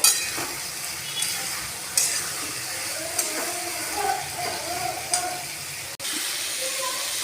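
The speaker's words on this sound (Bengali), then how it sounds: "এই মশলাটা দিয়ে দেব এটা ভালো করে নাড়িয়ে চাড়িয়ে নেবো" A ground spice mix of roasted garam masala, bay leaf and dried chilli is stirred into vegetables and greens frying for chachchari, with a continuous close sizzle and repeated spoon scrapes and knocks against the pan.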